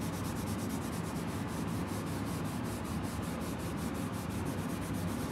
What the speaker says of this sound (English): that's why I'm using just regular steel wool instead of the soap